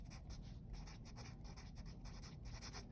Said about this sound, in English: I'm gonna write radiant energy here.